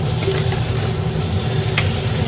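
With the lid off, a pan of bamboo shoot and pork curry with potatoes is stirred, giving a loud, steady close sizzle with scraping and a sharp clatter near the end.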